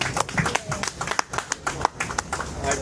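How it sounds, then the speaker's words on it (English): A short burst of audience applause at a press conference, a crowd clapping steadily for a few seconds with uneven, overlapping claps. "Please give a warm round of applause for Robert Fields."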